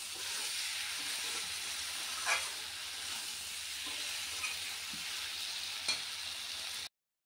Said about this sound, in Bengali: মশলা ভালো মতন কষানো হয়ে গেছে